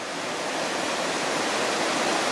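River water rushing over a small weir, a steady, loud, broadband roar that stays constant throughout with no other sounds.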